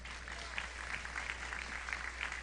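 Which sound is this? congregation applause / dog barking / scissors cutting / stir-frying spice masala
congregation applause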